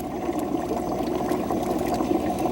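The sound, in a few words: water refilling a brine shrimp tank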